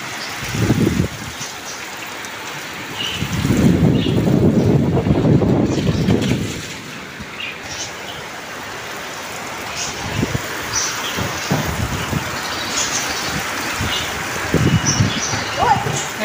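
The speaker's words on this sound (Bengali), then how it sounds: "এত মুষলধারে বৃষ্টি হচ্ছে" Heavy monsoon downpour hisses steadily and close, broken by gusty low rumbles of wind buffeting the microphone and scattered heavier splashes.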